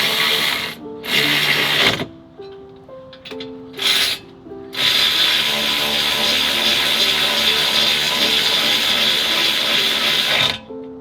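Power ratchet tightening suspension control arm bolts on a vehicle fitted with shortened spindles, several loud mechanical whirring bursts of varying length, with one long sustained run, close by.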